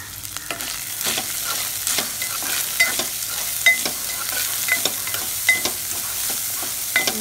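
Thinly sliced medium onions fry for masala mirchi bajji, giving a continuous sizzle. Frequent spatula scrapes and taps come in an uneven rhythm, close and fairly loud, with no voices.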